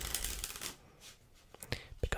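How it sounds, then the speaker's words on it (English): A deck of playing cards being shuffled during a close-up card magic session, with soft riffling and crisp flicks, quiet and near, then a few sharp snaps and taps toward the end. "They can start off by giving the deck a good shuffle again."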